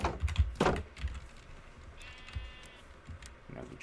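Minecraft sheep give a couple of clear bleats, loudest at the start, followed by quieter scattered sounds and a faint thud in a calm game scene.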